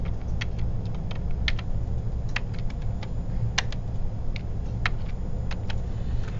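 Rapid typing on a computer keyboard while coding, with dense irregular clicks and key taps running throughout, close and clear over a low steady background hum.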